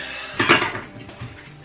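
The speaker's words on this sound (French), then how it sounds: "Ah mais il était tellement blindé ce lave-vaisselle aussi." Dishes and cutlery clatter as a packed dishwasher is unloaded in a family kitchen, with a sharp burst of clinking plates and silverware near the mic, then lighter knocks trailing off.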